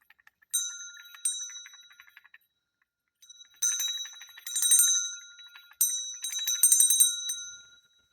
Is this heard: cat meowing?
no